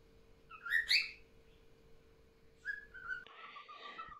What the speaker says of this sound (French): j'ai des oiseaux et il est bruyant